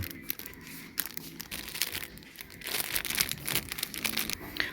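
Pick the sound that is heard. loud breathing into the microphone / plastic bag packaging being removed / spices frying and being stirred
plastic bag packaging being removed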